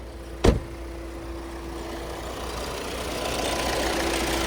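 A 2015/16 Ford EcoSport Trend diesel SUV engine idles with a steady low rumble and faint hum, after a brief dull thud near the start.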